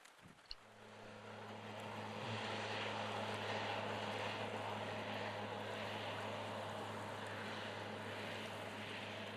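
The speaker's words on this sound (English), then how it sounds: "The plane actually came in to pick up the moose meat" Propeller floatplane in the Manitoba wilderness after a moose hunt, a steady droning engine hum that swells after a brief knock and holds at a constant level throughout.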